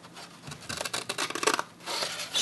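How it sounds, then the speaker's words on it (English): Scissors snip through cardstock up to a score line, a quick run of crisp, close cuts followed by a brief rubbing rasp of paper. "we're going to cut all the way up to this first score line on all of our other scores."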